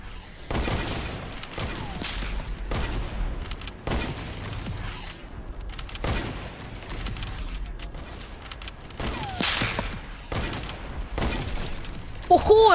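Gunfire in a Fortnite custom game mode rings out in several sharp, widely spaced shots across the clip, with a player talking faintly between them.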